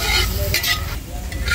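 Cut green chillies sizzling loudly in hot oil with salted onions for a Malayali village-style chicken curry, a close, continuous crackling fry with stirring and no voices.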